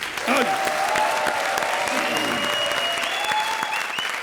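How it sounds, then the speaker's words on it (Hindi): An audience at a televised comedy show breaking into loud, sustained applause for several seconds, with tonal music or sound effects playing over the clapping. "जोरदार तालियां चाय के लिए"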